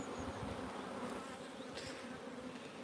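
Honey bees swarm over an open hive during queen cell building, giving a steady, dense buzz that holds close and even throughout, with faint higher whines passing over it.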